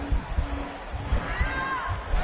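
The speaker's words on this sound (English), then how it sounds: "Crowd pops as Elliott fights out." A UFC 4 video game arena crowd swells into a brief roar of cheering during a jiu-jitsu armbar escape, a mid-distance wash of voices under thumping impacts and a faint whistling tone.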